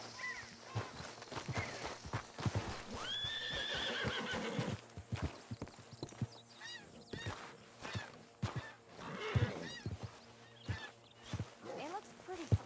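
Horses in the video game Red Dead Redemption 2 whinny and snort over clip-clopping hooves, with a voice speaking calmly to them between the neighs, close and fairly quiet.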